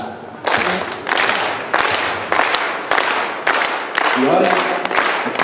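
An audience claps together in a slow, measured rhythm, each broad burst of many hands landing about every 0.6 seconds, loud and steady, with a voice briefly heard underneath.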